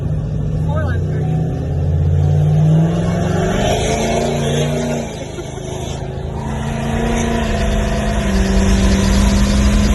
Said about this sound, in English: It was just burning it. It was just spinning the tires.